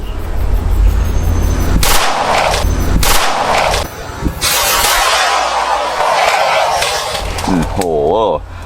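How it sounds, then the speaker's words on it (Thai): Rapid bursts from an Ekol ALP 2 blank-firing pistol in polished silver, loud sharp reports fired in quick clusters with brief gaps between, ending with a metallic rattle of the slide. "ขึ้นสไลด์ปึ๊บปล่อย ลองยิงดูนะครับ"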